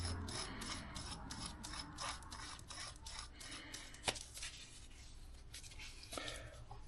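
Threaded part being tightened down by hand during a Yamaha DT 125 motorcycle restoration, heard as a steady run of close, fast ratcheting clicks and metallic rubbing with one sharper tap midway, no talk.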